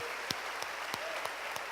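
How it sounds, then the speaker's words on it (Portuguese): Church congregation applauding during a Portuguese-language service, a dense steady patter of many hands clapping at moderate distance, with a few sharper individual claps standing out. "As palmas para o Senhor"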